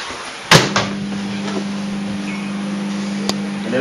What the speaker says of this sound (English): As soon as you close the door, it'll start out.